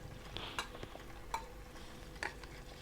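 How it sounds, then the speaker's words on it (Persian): Faint scraping of a utensil stirring melted paraffin wax tinted with red dye, a few sharp clicks and taps against the container over a quiet background. "هم میزنم"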